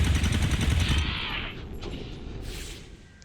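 A loud burst of rapid gunfire in the XCOM 2 video game rattles for about a second, then a low rumble and brief mechanical clatter fade away.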